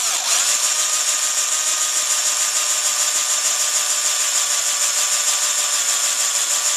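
A diamond hole saw cutting into brass casing, lubricated with motor oil, gives a loud, constant high-pitched grinding whine that holds steady without pause.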